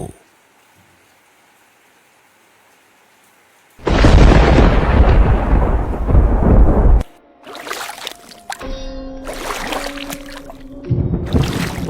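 A sudden loud rumbling crash with a roaring, rain-like wash, then more sharp thunderous bursts over steady noise.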